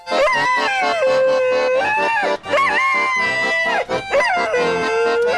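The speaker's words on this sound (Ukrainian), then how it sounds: "усміхнений гармоніст та голосистий пес" A dog howls in long, wavering tones alongside steady accordion music played by a street accordionist, both loud and close, with brief dips in between.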